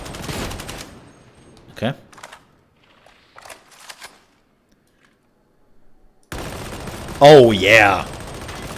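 Rapid gunfire in Warhammer 40K Darktide empties a magazine, with bursts of shots at the start and a loud stretch near the end, separated by quiet gaps; someone speaks briefly over the firing.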